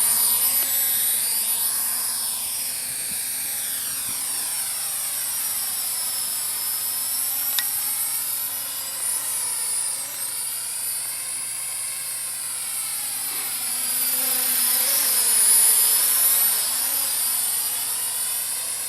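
A small RC flying car drone, a Syma X9 or JJRC H23, flies outdoors in some wind with a steady high-pitched propeller whine, pitch rising and falling as it moves closer and away.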